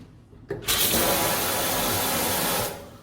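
A kitchen sink faucet in a house in Yonghyeon-dong, Incheon, gushing at strong pressure: a loud, steady broadband rush that starts abruptly after half a second and cuts off sharply near the end, with no talk.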